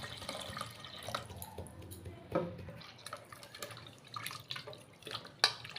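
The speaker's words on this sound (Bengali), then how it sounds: "এবার এর মধ্যে জল দিয়ে তেঁতুলটাকে ভিজিয়ে নেব" Water is poured and splashed over tamarind in a bowl to soak it, faint close trickling and dripping with a few small splashes, sparse and uneven.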